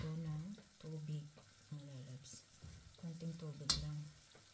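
Water hits a sizzling pan of coconut-milk stew with squash, string beans, eggplant and shrimp. A soft, steady frying hiss runs under a voice talking close by, with a brief louder splash near the end.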